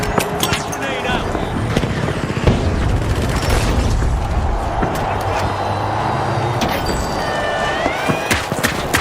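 Explosions and gunfire during a fast match of the video game The Finals, loud rapid cracks and booming bursts layered over a busy in-game soundscape with a grenade blast among them.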